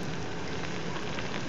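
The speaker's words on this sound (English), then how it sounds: "it started to rain" Steady rain patters densely on surfaces at the start of a downpour, an even, continuous hiss of drops with no talking.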